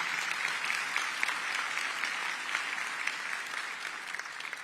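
Crowd applause at a county State of the County address, steady dense clapping from a large audience held at an even level throughout.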